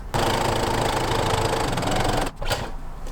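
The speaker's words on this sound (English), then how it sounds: "Now what we gotta do is just get this inner thigh area." A sewing machine runs fast and close, stitching the inner thigh seam of sweatpants made from a camo bedsheet, a dense mechanical whir that stops briefly, then restarts.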